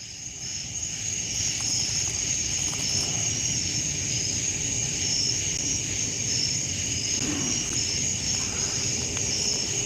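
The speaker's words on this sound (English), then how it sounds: "Oh, it's a cicada." A cicada droning steadily on a hot night by the water while carp fishing, a continuous high-pitched buzz with a faint rustling undertone throughout, with no talk.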